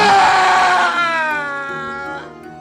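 A man in a Hindi animated horror story lets out one long, loud scream that starts shrill and slides downward in pitch, fading over about two seconds.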